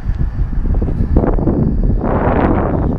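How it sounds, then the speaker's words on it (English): Gusty wind on a blustery day buffets the microphone with loud, rumbling low-frequency roar, swelling and easing in waves beside a 2016 Ram 1500 Limited EcoDiesel pickup, with no talk. "I'm going to speak a little bit loud to make sure that you can hear me over the wind."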